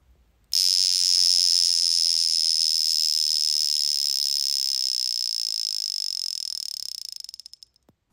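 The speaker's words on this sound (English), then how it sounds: "We will put the alarm in place in a bit. Let it chime, yes, absolutely." The alarm of a vintage Memovox wristwatch rings as a continuous, high, metallic buzz for about seven seconds, heard close up and alone, then stutters into quick broken pulses as it winds down.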